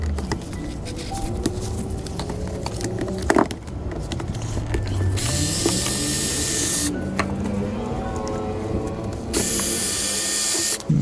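Ratcheting tool clicks steadily while loosening the battery terminals on a 2022/2023 Yamaha Zuma 125 scooter, with bursts of mechanical rattling and bright metallic noise close by, no talking.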